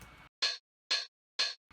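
Three crisp, evenly spaced hits of a 909 hi-hat sample run through a resonant low pass filter, following a brief darker sustained sound, quiet and alone.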